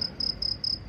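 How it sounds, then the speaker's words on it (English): Crickets chirp as a comedic sound effect, four evenly spaced high trilling pulses in under a second, steady and clear over a faint low background. "How you do crickets?"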